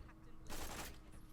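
A Sandhawk gun fires a quick burst in Borderlands 2, a short rush of rapid shots that comes out as one blurred blast, fairly faint over quiet game background.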